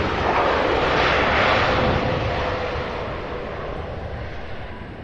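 Jet airliner landing at CVG airport in Cincinnati, Ohio, a loud continuous engine roar with broad rushing noise that peaks early and slowly fades as the plane rolls down the runway.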